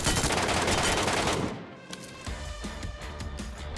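Gunfire aimed at a boss in the video game Metro Royale: a dense burst of rapid shots fills the first second and a half, then scattered single shots crack out over a lower rumble, loud and close with no talk.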